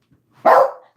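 A single loud, close dog bark bursts out after a faint moment of quiet, a sharp yelp that tails off within half a second, heard outdoors with no talking.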